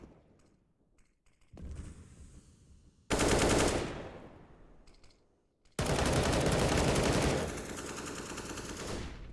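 Automatic rifle sprays fire in bursts during a competitive Counter-Strike: Global Offensive match, with a short quiet spell, then two loud sustained volleys, the second running several seconds, under faint game ambience.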